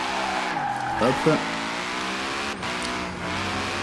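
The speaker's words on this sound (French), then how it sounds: "Comme vous pouvez le constater, ça drift pour rien, hein." A Ford F150 Hoonitruck drifts in Forza Horizon 4, its engine droning steadily with tire squeal sweeping through the middle, while someone talks over the game audio.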